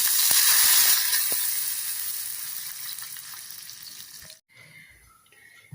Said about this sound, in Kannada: ತೆಂಗಿನಕಾಯಿ ಎಣ್ಣೆಯಲ್ಲಿ ಒಗ್ಗರಣೆ ಮಾಡ್ತಾ ಇದ್ದೇನೆ